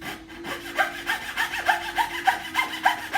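A coarse saw blade cuts cypress wood for a baroque cello outline in a steady back-and-forth rhythm of rasping strokes, close and clear, about two strokes per second.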